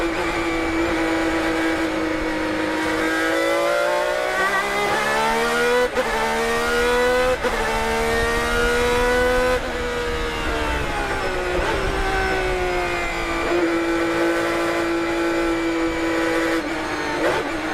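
A high-performance Ferrari engine revs loudly and continuously, its pitch climbing and dipping through gear changes and throttle blips.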